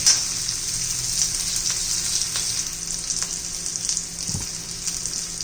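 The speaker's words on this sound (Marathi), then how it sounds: "पहा जिरा आणि कांदा आपण थोडं परतून घेऊ" Cumin seeds and onion fry in a pan for fenugreek greens, giving a steady close sizzling hiss with a few soft spatula scrapes and a brief low knock near the end.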